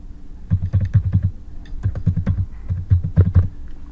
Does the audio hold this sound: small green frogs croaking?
no